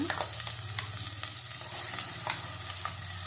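Loud, steady sizzle of masala frying in a pan, broken by quick scraping clicks of a utensil stirring; no talking.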